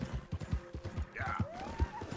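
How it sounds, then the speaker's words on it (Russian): Hooves pound in a fast, steady galloping rhythm as a horse runs in Red Dead Redemption 2, close and fairly quiet, with a brief whinny-like cry partway through. "Лошадь сейчас устанет уже."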